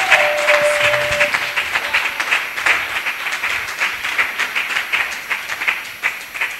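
Church congregation applauding and acclaiming during a worship service, with dense sustained clapping throughout and a brief held tone at the start.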